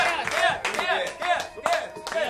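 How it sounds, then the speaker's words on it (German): Festival audience clapping together with cheering voices, a dense patter of claps at close range with shouts and vocal sounds mixed in. "Da können wir nochmal richtig klatschen hier hinten auf der Schlafwagenabteilung"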